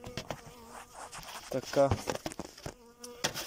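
Bees buzz around a beekeeper working a woodland apiary, their hum rising and falling close by while someone talks in Bulgarian over it.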